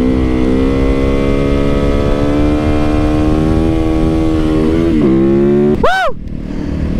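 A supermoto motorcycle, a Surron, is ridden off-road, its engine note held high and loud and close before dropping, then a sharp rev sweeps up and falls away near the end.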